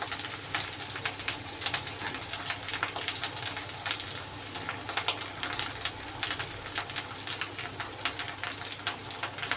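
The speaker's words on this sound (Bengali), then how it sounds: "পেঁয়াজটাকে ভাজা ভাজা হয়ে গেছে। এখন আমি দিব হলুদের গুঁড়ো" Onions fry in a pan, then turmeric powder goes in; a steady, fairly quiet sizzle crackles continuously with fine pops throughout.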